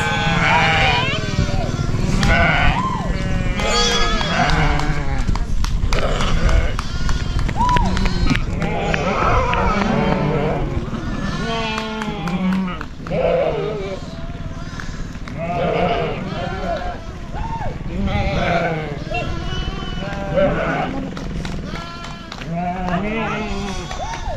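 Sheep and goats bleat repeatedly on a ranch while the herd is driven along, with people calling out and talking over the busy, continuous animal noise.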